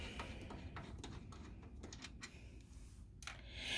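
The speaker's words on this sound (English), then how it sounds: "taking out these 2 screws, one on this side" Screws come out of an Aerocut perfing unit as a string of faint, close clicks and taps, with a short rustle near the end.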